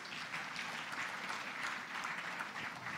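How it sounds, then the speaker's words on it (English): Audience applause welcoming Dr. Kasturirangan at an education event on the National Education Policy, a dense, steady wash of many hands clapping that holds at even strength from start to finish, with no voices over it. "please welcome him with a big round of applause"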